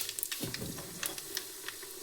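Cumin and mustard seeds dropped into about four spoons of hot oil for an upma tempering, crackling and sizzling steadily close by with small popping bursts, no voices.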